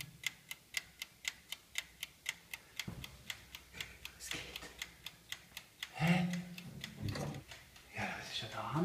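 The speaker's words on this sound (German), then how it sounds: "Tickt immer noch." Steady mechanical ticking, like a clock, heard in the kitchen of an abandoned children's health clinic: crisp, evenly spaced ticks for about six seconds, then louder footsteps, knocks and indistinct voices take over.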